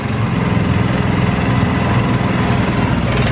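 A 212cc motor scooter engine runs on a dynamometer with a steady, loud, buzzing drone that holds near-constant throughout, close up and with no talk over it.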